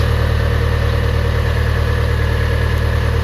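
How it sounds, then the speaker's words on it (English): A John Deere 80C excavator diesel engine idles steadily with a deep, even rumble and constant mechanical hum, close by with no other sounds. "So I'm going to turn off the engine, adjust this, and then try again."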